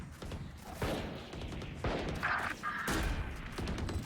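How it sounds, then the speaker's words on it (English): Gunfire in the tactical shooter Valorant during a collegiate esports match, with a few bursts of rifle shots fired into smoke, moderately loud over a dense game mix. "Take some shots through the smoke, not finding anything yet"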